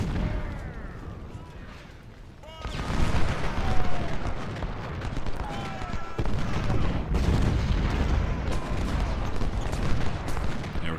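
Rumbling cannon fire in the Civil War strategy game Ultimate General at Gettysburg, including 20-pounder guns, a constant dense roar of booms and battle noise that swells loudly after a quieter opening.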